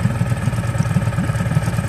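Small inboard engine of a Beneteau First 21.7 sailing yacht idling after a choked start, a close, steady low chugging with a fast, even pulse and a faint mechanical whine above it.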